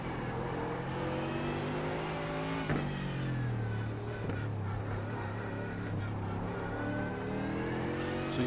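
A race car in the iRacing sim game droning through a pit-lane entry at the Circuit de Barcelona-Catalunya, the engine note dropping and then holding a steady low buzz throughout, loud and close with no talk.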